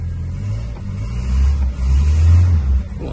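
A 1966 Hillman Minx engine runs close by with a deep, even rumble that swells twice as it is revved, then eases back toward idle.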